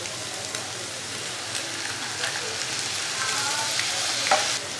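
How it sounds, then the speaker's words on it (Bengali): Chicken, carrot and egg frying with soy sauce for fried rice, a dense crackling sizzle like rain on a surface, steady and close with occasional clinks of stirring. "ফ্রাইড রাইসের সবজি ভাজতেছি।"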